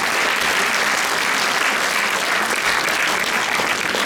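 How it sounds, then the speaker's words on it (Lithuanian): A hall audience claps steadily and evenly for the Šilutė art school string ensemble at a February 16 celebration, a full, unbroken wash of applause with no talking. "Plojimai Šilutės meno mokyklos styginių instrumentų ansambliui"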